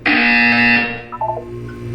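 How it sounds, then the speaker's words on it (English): A harsh electronic buzzer from the video game Portal 2 blares loud and close for under a second, then cuts off into faint beeping tones and low background hum. "You will hear a buzzer"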